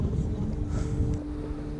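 Wind gusts across the microphone on a boat during a fishing trip, a steady low rumble with a faint engine-like hum beneath it.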